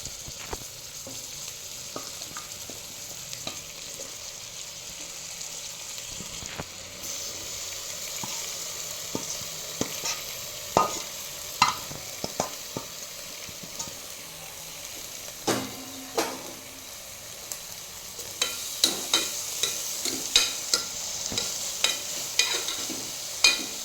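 Surati undhiyu being stirred in a cooker: steady oil sizzle with scattered scraping and clinking of a spoon against the pot, growing busier toward the end.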